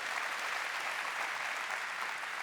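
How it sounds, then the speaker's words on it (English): Audience applause at a Shopify build awards ceremony, a steady, fairly faint wash of clapping from a seated crowd that carries evenly through the short stretch. "Big round of applause for them again."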